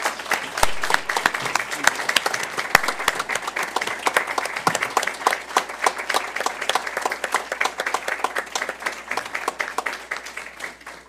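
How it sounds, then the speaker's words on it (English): At a school board meeting, the room applauds elementary school staff with sustained, crisp clapping from many hands that stays even and fairly close throughout, with faint murmuring underneath. "Let's give them a big round of applause."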